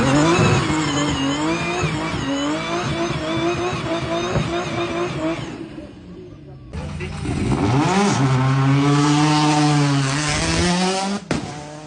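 A 1,000 horsepower car climbs the Gumball 3000 hill climb, its engine screaming loud and near, rising through gears with tire squeal, then a brief drop before another sustained high-revving surge, with crowd voices underneath.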